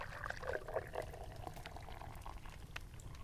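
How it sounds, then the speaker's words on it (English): Hot chocolate poured from a jug into mugs aboard a cosy canal boat, a soft continuous liquid stream running steadily for a few seconds at close range with no talking. "you hear your friend pouring the drinks"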